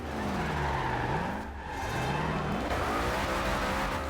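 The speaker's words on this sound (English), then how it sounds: "I built it mostly for drifting, as you can see here" A twin turbo Ford GT drifts in Forza Horizon 2, its engine roaring loudly with pitch swooping up and down through revs while tires squeal continuously underneath, sustained and close.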